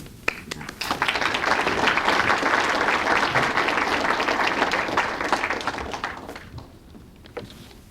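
Sustained applause from a crowd at an awards banquet, dense clapping that holds steady for several seconds before tapering off near the end.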